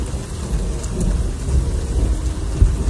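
Heavy rain pours steadily and loudly, with low rumbles of thunder rolling underneath and no voices.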